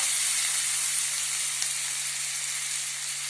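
Chopped medium onions sautéing in a pan for a side dish to chapati or roti, a steady, close sizzling hiss that holds evenly throughout with no voices.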